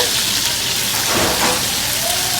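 A loud, steady sizzle of onion and garlic frying in a hot pan, crackling continuously without any talking.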